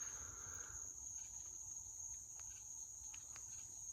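A grasshopper-like insect at night at a campfire site keeps up a high, steady, faint chirping trill, with a few soft ticks and rustles underneath.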